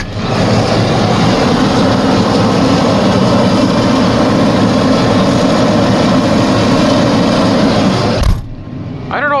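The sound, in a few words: forage harvester engine chopping corn silage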